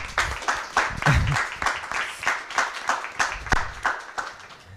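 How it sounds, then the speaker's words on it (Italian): An audience at a school meeting with author Beatrice Masini applauds, rhythmic unison clapping at a steady beat, moderately loud and close, with some laughter and voices mixed in. "a cui va il nostro grande applauso"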